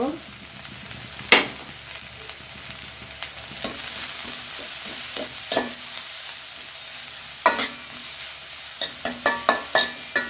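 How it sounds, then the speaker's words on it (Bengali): Onion, chopped chilli and carrot fry in a pan for a muri makha mix, a steady sizzle with several sharp stirring scrapes of a spoon on the pan, close and without talk. "পেঁয়াজটা হালকা হালকা ভাজা হয়ে গেলে তখন আমি মরিচ কুচিগুলো দিয়ে দিব"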